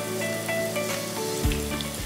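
Tempering spices sizzle and crackle in hot oil for stuffed bitter gourd curry, a close, steady frying hiss with a sharper burst of sizzle partway through, alone without talk.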